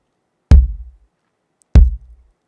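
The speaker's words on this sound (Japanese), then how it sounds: "ドラムの中のバスドラムの音を出すやつですね" Two separate kicks on a detached Roland V-Drums electronic bass drum pedal, each a punchy, deep thud with a short decay, about a second apart, loud and close with silence between.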